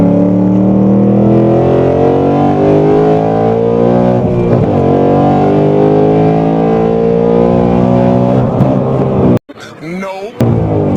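A 2022 Ford Mustang Mach 1 engine roars loudly and continuously as it pulls hard through the gears, pitch climbing steadily, then cuts off abruptly for a moment at a missed shift before revving again.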